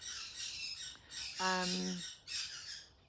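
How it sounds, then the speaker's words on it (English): A pair of parrots next door screech loudly, harsh bursts over about three seconds with a brief harmonic squawk in the middle, fairly close and clear against quiet room ambience. "There's the parrots next door."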